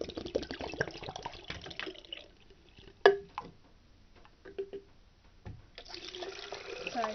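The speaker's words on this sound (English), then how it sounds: "I just rinse it and then refill." A hamster's plastic water bottle being rinsed and refilled at a sink: running tap water splashes and trickles in uneven bursts, with a sharp clunk partway through, close and fairly quiet.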